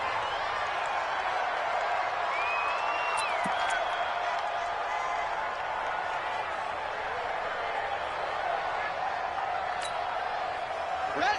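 A stadium crowd at a Packers football game in a video game keeps up a continuous broad roar with scattered whistles and cheers, steady and moderately loud throughout, with no talk in the clip.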